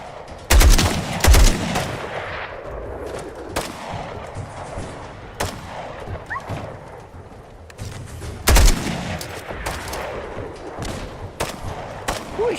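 Gunfire in the Fallout video game inside the Corvega Assembly Plant among ghouls, loud bursts of rapid shots in two main clusters with scattered single cracks and echoing combat noise between them.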